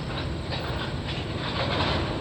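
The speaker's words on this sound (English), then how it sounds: "I think this 570 train's probably picked up all of its cars" CN freight train 570, working in a rail yard, produces a continuous loud rumble with clattering wheels and a steady rolling hiss.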